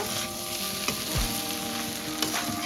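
Lightly fried potatoes cook with mutton mince for ghugni, a steady low sizzle with a few soft stirring clinks and scrapes, close and fairly quiet, with no voices.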